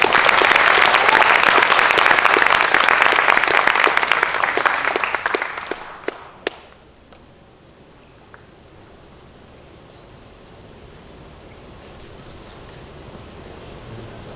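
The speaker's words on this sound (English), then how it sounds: "One last applause for these guys." Applause from an audience at a high school men's soccer awards night, loud and steady for about six seconds, then fading fast into a quiet room with a few stray claps.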